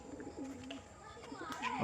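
Pigeons flying overhead give soft, low cooing calls, faint and brief, while someone talks nearby.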